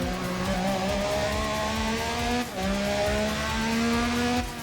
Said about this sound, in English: I shall hang here, driving in my car.